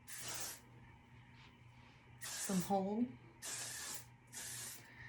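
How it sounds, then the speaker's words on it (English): Got to Be Freeze hairspray hisses onto wavy hair in four short, close bursts of spray spaced about a second apart, with someone speaking briefly between the second and third. "first thing I'm gonna do is I'm going to spray with hairspray."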